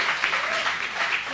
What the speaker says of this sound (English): Clap it up for the women on the panel.